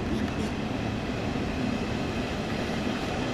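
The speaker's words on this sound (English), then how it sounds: "There goes the train." A Deutsche Bahn train rumbles past nearby, a steady broadband roar that holds loud and even for the full few seconds with no talking.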